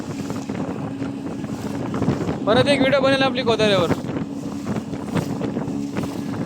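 Strong wind buffets the microphone on a boat trip at sea near Kodara on the Ratnagiri coast, a steady roar of gusts and engine hum throughout, with someone speaking over it in the middle.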